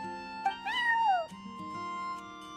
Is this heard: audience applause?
no